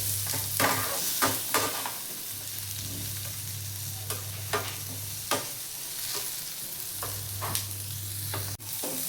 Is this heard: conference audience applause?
no